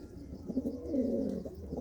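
Pigeons in a loft, including young birds and blue-bar adults, give a soft low cooing that swells in the middle, close by and alone without talk.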